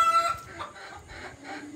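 Fayoumi laying hens on a poultry farm cluck in short, repeated bursts, fairly close and moderately loud, with no voices.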